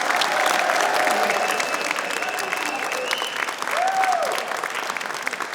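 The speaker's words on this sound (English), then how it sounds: "A round of applause, please, for Rhys James." Loud, dense audience applause for comedian Rhys James on a TV football panel show, a steady wash of clapping filling the whole stretch with some crowd noise mixed in.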